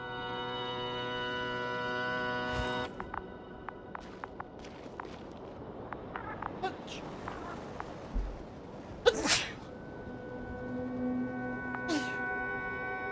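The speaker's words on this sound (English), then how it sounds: "There's your cute sneezes of the evening, ladies and gentlemen." A person sneezes, with a sharp burst at about three seconds and louder ones near nine and twelve seconds, against background game music and scattered footsteps.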